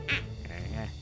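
A single loud duck quack rings out from the video game Kindergarten, a short bright burst at the start followed by a fainter tonal call, with faint game sounds underneath.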